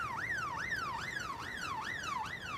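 An ambulance siren wails steadily in a rising-and-falling pattern, four to five full cycles, clear and fairly close with no voices over it.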